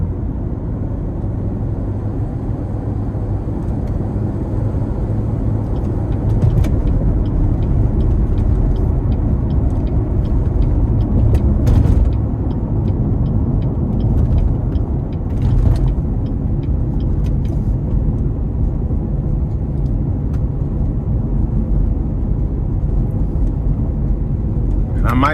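A 2016 Chevrolet Corvette Z06 with 815 wheel horsepower is heard from inside under full throttle on an interstate. A dense, loud engine roar rises and holds for the whole stretch, with a voice talking intermittently over it.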